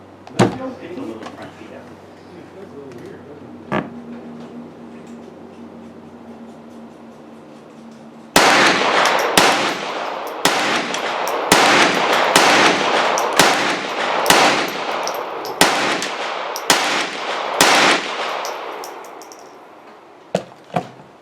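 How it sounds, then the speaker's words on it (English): About ten rapid, sharp gunshots from a KRISS Vector .22 LR short-barreled rifle firing CCI Mini-Mag ammunition at a range, loud and closely spaced, after a quieter stretch with a voice speaking. "Ten rounds rapid fire with CCI mini mags with the KRISS Vector 22 SBR."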